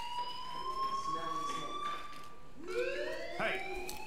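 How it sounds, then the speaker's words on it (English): A fire alarm rings in a video game, a steady high electronic tone that shifts pitch partway through while the sound underneath changes, heard clearly over faint background noise. "Hey, do you hear that fire alarm?"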